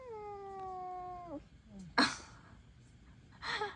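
A cat gives a long, drawn-out meow that bends downward, followed by a couple of short, sharp cries, fairly close but quiet, with no talk.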